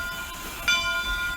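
Steam locomotive 3716, built in 1919 by Montreal Locomotive Works, sits idling at the Kettle Valley Steam Railway station in Summerland, B.C. It gives a steady hiss and hum, and a brief sharper burst comes about halfway through.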